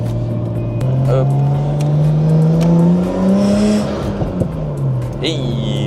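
A Nissan Skyline R33 engine revs and climbs steadily in pitch, dropping as gears shift, with a voice briefly audible over the loud, close motor drone.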